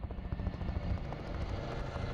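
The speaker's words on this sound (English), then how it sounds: "Good time for a helicopter to fly by." A military helicopter flies by with a low, throbbing rotor beat that stays fairly steady and moderately distant throughout.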